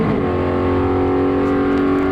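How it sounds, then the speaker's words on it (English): A Mazda race car spins its wheels at the track, hazing the tyres: a loud, sustained, steady engine roar held at high revs, close and alone. "that horrible noise is kind of the car just spinning the wheels and"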